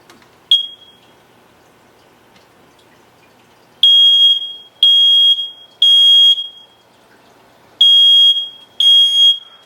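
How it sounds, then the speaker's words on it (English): A smoke alarm goes off after its test button is pressed: one short chirp, then five loud, piercing electronic beeps in an even repeating pattern, each lasting about half a second to a second, close and alone. "So in theory, when I press the test button on that, the alarm should go off."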